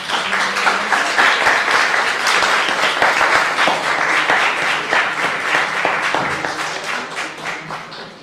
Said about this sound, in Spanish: Un aplauso final para ti.